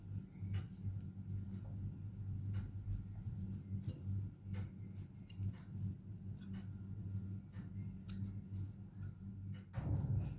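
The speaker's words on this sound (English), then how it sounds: "I'm going to cut the extra yarn." Scissors snip off the excess yarn on a crocheted cupcake beanie, giving a few short, faint clicks and cuts close by over a low background hum, with no talking.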